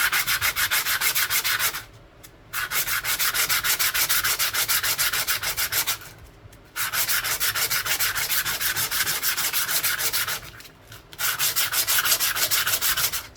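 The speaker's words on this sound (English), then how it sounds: "So now I want to get Sandy the sandpaper out and clean up this" Sandpaper rubs the edge of a folded Finnish 10 markka coin ring in long, steady, close scraping passes, pausing briefly three times between strokes, with no talking.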